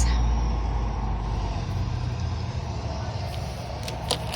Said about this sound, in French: Ils sont en train d'installer un feu de circulation pas très loin. C'est ça qu'on entend.